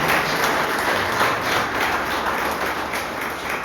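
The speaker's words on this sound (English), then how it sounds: "a huge round of applause for Vishwa" Audience applause at a Gujarati cultural evening, a full, continuous burst of clapping from a crowd, loud and even from start to finish with no voices over it.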